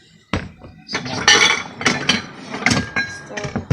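Glass bowls and plates from a yard sale clink and knock together as they are handled, a series of sharp clinks and thuds at irregular intervals, close and fairly loud.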